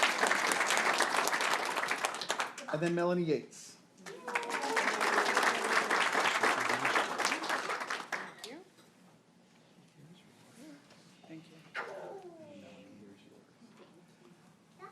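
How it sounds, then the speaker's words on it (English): An audience at a board meeting breaks into loud applause for an award recipient, dense clapping lasting several seconds, then a speaker talks and a shorter burst of clapping follows more faintly. "We can give her a round of applause, though."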